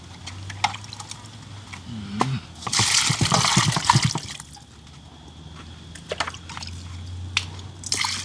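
Water running over ackee and saltfish as they are rinsed in a Jamaican kitchen, a louder splashing gush in the middle framed by quieter drips, clinks and handling.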